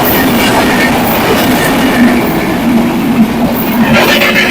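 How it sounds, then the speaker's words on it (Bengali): A large train passes close by with a loud, continuous rumbling roar and a rolling clatter of wheels on rails, with no talking. "অনেক বড় ট্রেন"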